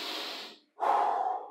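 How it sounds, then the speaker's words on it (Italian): Heavy breathing during a toning workout, one long breathy exhale that fades, a short pause, then a deeper, louder breath, close and clear with no talk. "Respirazione"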